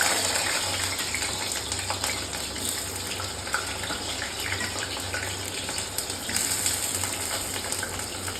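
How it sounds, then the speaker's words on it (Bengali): Potatoes frying in a pan of oil, a steady hissing sizzle that runs continuously and fairly quietly throughout, with no voices. "এরপর আমি আলুগুলোকে ফ্রাই করে নেব।"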